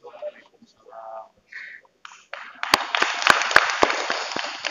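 Audience applause at a community event, a burst of clapping from many hands that rises loud after a few quiet spoken words and carries on steadily to the end.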